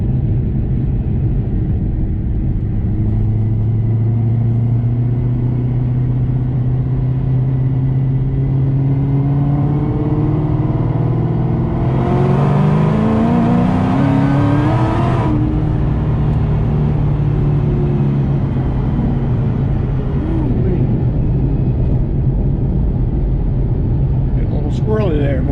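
A cammed Ford GT500 engine rumbles and revs through an acceleration pull on a chilly day, a steady low drone climbing in pitch with a brief surge midway; a voice talks over it throughout.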